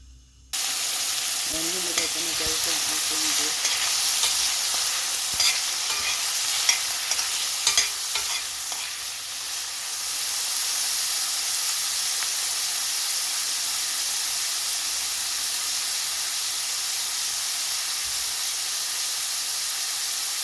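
Oil sizzles in a pan being readied for cooking beef, giving a steady, close frying hiss with a few light scrapes and clinks early on, continuing evenly throughout.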